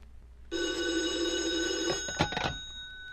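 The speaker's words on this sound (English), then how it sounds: "if the phone rings, I'll answer it because it'll be for me" A telephone bell rings steadily and loudly for about a second and a half in a quiet room, then is cut off by a couple of clunking handset thuds as the receiver is picked up.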